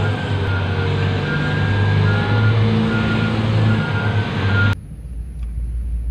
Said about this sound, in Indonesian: Di sini ada truk tambang.